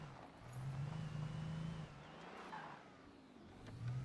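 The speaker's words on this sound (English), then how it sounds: "This car handles like poop." A car engine in the video game Alan Wake hums and revs steadily, dipping briefly before picking up again, with a synthetic, game-like quality and no talking.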